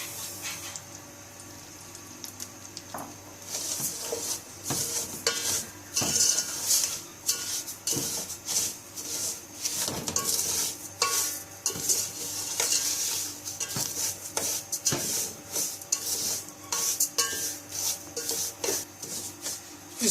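Sugar is stirred into melting ghee in a pot for sweet zarda rice, a continuous close scraping and rubbing of a spoon against metal over a soft sizzle, busy and steady for the whole stretch.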